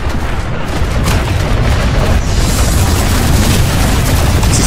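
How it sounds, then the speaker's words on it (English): Grenades and explosives go off in a large-scale video game battle of 240 players per side, a steady wall of booming blasts and rumbling gunfire that continues densely throughout. "Nades down that stairs."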